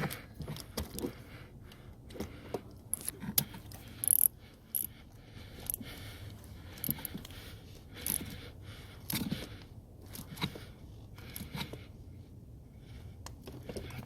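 A ratchet tightens a spark plug on an Acura TL, giving faint, scattered clicks and short metallic ratcheting bursts close by over a quiet background, with no talking.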